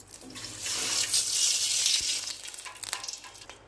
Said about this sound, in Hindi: पानी का ऐड कर देना है।